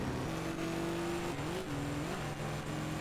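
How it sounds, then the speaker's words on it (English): A faulty car engine in the racing game ToCA Race Driver 2 holds a steady, droning note that wavers and dips as the revs shift, loud and continuous, with no talking. "Engine sounds like it could have a problem"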